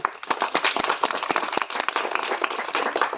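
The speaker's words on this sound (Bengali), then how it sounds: "হাততালি সবাই" A group of people gives a burst of fast, dense applause at a lively vegetable-naming game event, crisp and close, sustained for about three seconds.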